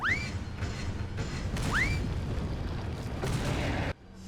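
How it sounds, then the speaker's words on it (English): Grenades go off in Resident Evil 4 as a dense, continuous booming roar, with short rising electronic chirps over the blast noise and an abrupt cutoff near the end. "Let's use some of these grenades."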